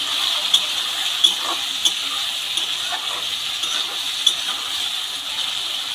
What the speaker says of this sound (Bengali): সব সবজিগুলো তেলের মধ্যে দিয়ে দিলাম তেলের মধ্যে দিয়ে সবজিগুলোকে ভালো করে ভেজে নেবো